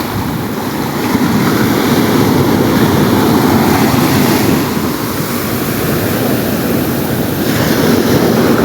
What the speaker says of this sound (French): Magnifique océan que j'adore. J'adore son énergie, j'adore sa puissance, j'adore son bruit